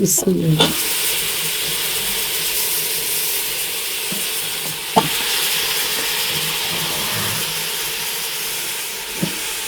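Curry added to a pan on a home gas stove, a steady loud frying hiss and sizzle with a few sharp clinks of utensils against the pan and no one speaking.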